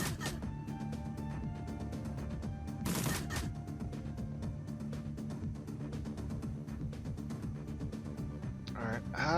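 A gunshot in the turn-based game Shadowrun: Dragonfall fires once as a sharp, loud burst about a third of the way in, over steady game music and ambience, with a faint rustle near the end.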